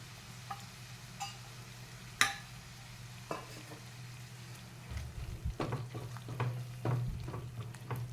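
Tomato puree hits fried onions in a pan while cooking parwal sabji, giving a low steady sizzle with scattered scraping stir strokes and clicks that pick up toward the end, fairly quiet and close.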